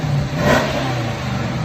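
A 2018 Dodge Charger R/T with its 5.7L HEMI V8 and stock exhaust revs once, a mid-pitched engine swell rising and easing back to a steady rumble, close and fairly loud.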